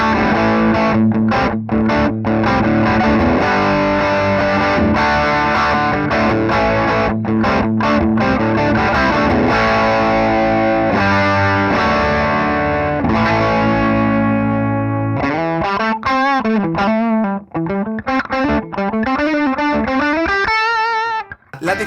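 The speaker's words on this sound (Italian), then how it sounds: "Proviamolo con una distorsione più aggressiva tipo Nobels ODR1, uno dei suoni più utilizzati dai session man di Nashville." Electric guitar driven through a Nobels ODR-1 overdrive into a Lombardi LC8 amplifier plays sustained distorted chords, then shifts to bending, vibrato-laden lead notes near the end, loud and alone.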